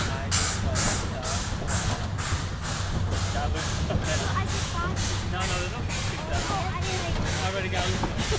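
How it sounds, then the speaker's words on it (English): Steam-powered air compressor on a narrow gauge railroad locomotive at Roaring Camp, pumping the train brakes, giving a steady rhythmic hissing chuff repeating about twice a second, close and continuous, with voices talking over it. "That's a steam-powered air compressor."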